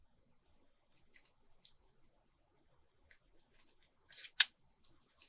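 Sewing scissors cutting fabric around a curve while making slot pockets: a quiet stretch with faint small snips, then one sharp, close cut near the end.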